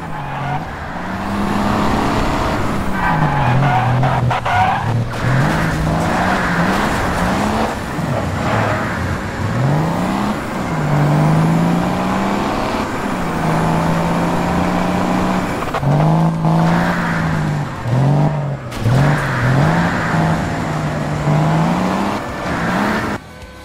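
A car in the driving video game Alarm für Cobra 11 roars steadily as it accelerates, its engine pitch climbing and dropping repeatedly through gear changes over a constant loud road and racing din.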